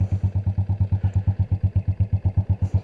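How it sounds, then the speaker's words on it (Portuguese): A 50cc motorcycle engine idles close by with an even, rapid putt-putt beat, about seven pulses per second, steady and unchanging throughout. "Bom, temos marcha lenta."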